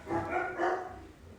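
Pet dogs give two short, close barks in quick succession, standing alone with no other sound around them.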